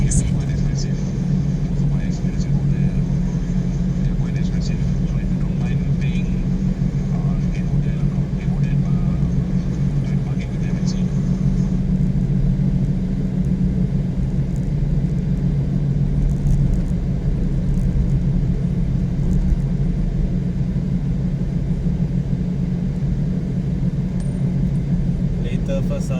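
A car drives along Jalan Langat in Bandar Bukit Tinggi, Selangor, its engine and tyres making a steady, close low rumble from inside the cabin, with voices and navigation prompts occasionally heard over it.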